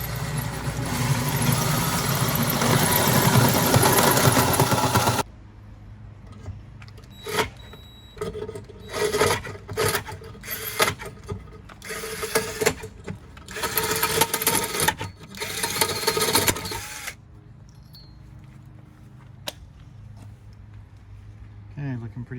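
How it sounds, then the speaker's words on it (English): A drill boring a large hole through a school bus door, a loud continuous grinding whine for several seconds, then stops and restarts as short bursts of drilling and scraping, with people talking nearby. "so you saw us drilling the big hole"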